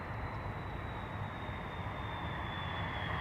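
Jet engines of an airplane at Dublin Airport roar steadily, with a thin whine gliding slowly downward over a broad rumble, sustained throughout and fairly distant, in crosswind conditions with no talking.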